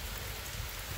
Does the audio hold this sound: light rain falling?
yes